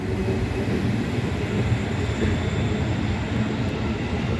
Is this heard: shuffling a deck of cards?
no